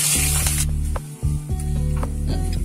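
Ginger, garlic and curry leaves sizzle loudly in a pan for Malabar mutton masala, a steady close crackle with short utensil knocks and stirring scrapes running throughout.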